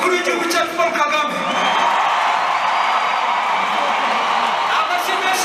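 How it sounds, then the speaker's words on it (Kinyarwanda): A large crowd at a concert claps and cheers continuously in a dense, loud roar with scattered whoops. "Amashyi menshi ku ngabo zacu zaduhaye umutekano twaba twishimye."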